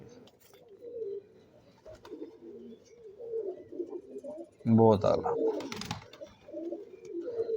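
Pigeons coo among a pigeon fancier's birds, soft throaty calls recurring through the clip under a voice, with a louder burst of sound midway.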